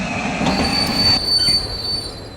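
Train wheels squeal loudly and close after the emergency chain is pulled, a piercing high-pitched screech held over a heavy rolling rumble of railcars, with no voices.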